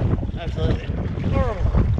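Wind buffets the microphone while sea kayaking off Kangaroo Island, a rough low roar filling the moment, with brief voices faintly audible underneath.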